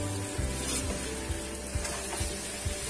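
Mutton korma with coarsely ground garam masala sizzles steadily in a pan while a spoon scrapes through it, giving soft rhythmic knocks over a constant close hiss.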